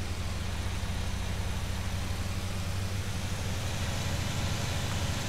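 A farm tractor engine in the Farming Simulator 19 video game runs steadily, a constant low droning rumble with broadband hiss and no talk over it.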